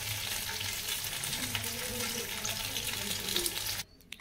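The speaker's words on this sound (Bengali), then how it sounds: "দেখুন ঢ্যাঁড়সটা ভাজা হচ্ছে" Okra frying in a pan for a vegetarian recipe, a continuous dense sizzle with faint stirring, steady and close until it cuts off abruptly near the end.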